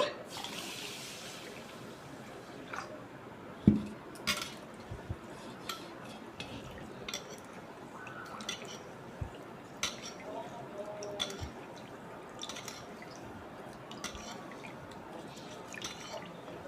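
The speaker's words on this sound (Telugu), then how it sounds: "దీంతో రెండు గ్లాసులు తీసుకుంటున్నాను ఇవి శుభ్రంగా కడుక్కోవాలి" Two glasses are washed with water, giving soft drips, splashes and light clinks of glass in a quiet room, with occasional sharper taps throughout.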